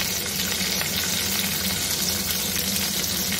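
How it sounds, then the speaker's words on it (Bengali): Chopped onions frying in oil lowered to a gentler heat while a Szechuan chicken is cooked, giving a steady, close sizzle and crackle that runs unbroken throughout with no talk. "তেলটা কিছুটা কমিয়ে নিয়েছি, কমিয়ে নেওয়ার পরে এখন আমি এই আমার সুন্দর পেঁয়াজগুলোকে দিয়ে দিচ্ছি।"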